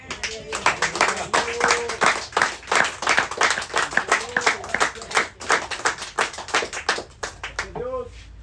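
A church congregation claps in rapid, uneven bursts while voices call out over the clapping, which continues steadily throughout.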